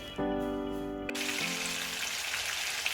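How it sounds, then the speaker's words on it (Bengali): Pieces of hilsa fish frying in oil give a close steady sizzle that fills in after a brief tonal hum at the start, then carries on evenly to the end. "মাছ ভাজতে নিলে মাছের ঘ্রাণের সাথে মাছের যে শব্দটা হয় সেই শব্দটাতেই কিন্তু পেট ভরে যায়"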